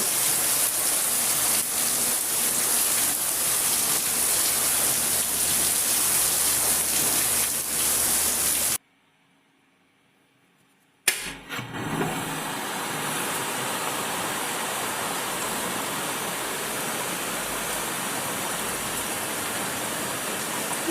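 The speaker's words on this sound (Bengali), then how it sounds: "এখন একটু কমে গেল বৃষ্টিটা ওই এভাবেই কখনো জোরে নামছে কখনো হালকা" Steady rain pours loudly for several seconds, cuts out briefly, then resumes as a lighter continuous patter on surfaces, close and enveloping.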